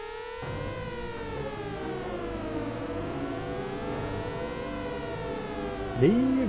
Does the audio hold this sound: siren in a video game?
yes